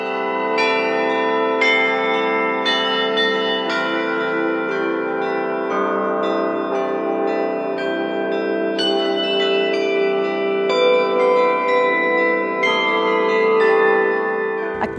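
Church bells in Mariana ring out loud and close, overlapping resonant strikes following one another in a steady sequence with long sustained tones and no voices.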